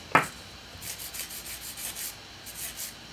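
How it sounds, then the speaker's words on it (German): A fingernail is filed narrow into a ballerina shape, a sharp first scrape followed by a steady run of soft, quick rasping strokes close by, with no talking. "Nagel natürlich schön schmal feilen, weil es wird ja ein Ballerina-Nagel."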